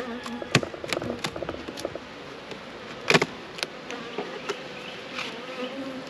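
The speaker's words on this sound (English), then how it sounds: "So we see the bees below." Honey bees buzzing at an open hive during a honey flow inspection after a little smoke, a continuous droning hum with several sharp close passes and clicks, fairly quiet and alone without talk.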